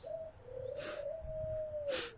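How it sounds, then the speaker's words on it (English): A dove coos close by with a long, soft, steady hooting note held for nearly two seconds, while two short airy noise bursts break in, no talking. "That's a dove cooing."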